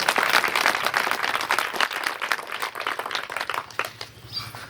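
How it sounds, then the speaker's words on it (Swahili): Applause at an outdoor community gathering in a Tanzanian village, a crowd clapping at a lively, uneven pace that thins and fades toward the end. "Tumpigie makofi."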